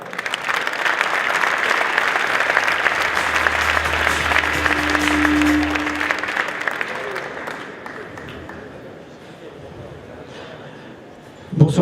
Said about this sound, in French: Je vous demande d'accueillir et d'applaudir chaleureusement Thomas Charrère